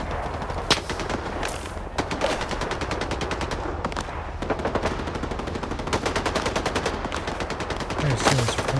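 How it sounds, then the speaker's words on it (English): Continuous gunfire in Stalker 2, rapid machine-gun bursts and sharp single shots crackling almost nonstop, some close and loud, others more distant, with brief gaps between volleys. "Okay, we're getting shot at"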